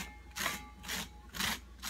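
A utensil scrapes strands out of a cooked spaghetti squash shell in three rhythmic strokes, each a soft, raspy, close-up rub with brief pauses between.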